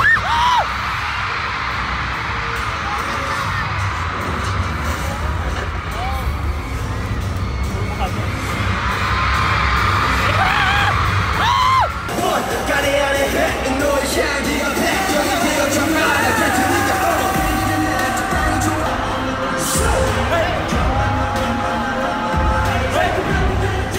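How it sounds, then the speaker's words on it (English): Distant crowd screaming and shrieking during a trip in Bangkok, Thailand, a continuous wash of many voices rising and falling over steady hum and background noise, with loud shrill peaks. "Do you guys hear the screaming?"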